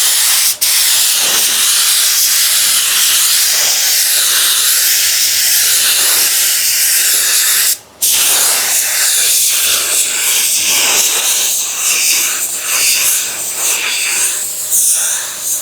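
A paint spray gun lays a base coat onto a metallic-finish panel, giving a steady, loud airy hiss that runs nearly the whole time, broken only by a brief pause near the middle before spraying resumes.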